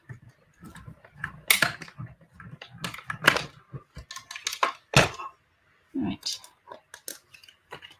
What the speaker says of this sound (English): so let's bring in my mini Stampin' Cut and Emboss machine